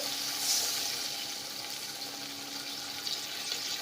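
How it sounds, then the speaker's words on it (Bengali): Water is poured into a sizzling pan of pomfret fish curry, giving a hissing splashing wash with frying crackle, moderately quiet and steady with no talk. "তো এবারে আমি একটু জল অ্যাড করে দিচ্ছি।"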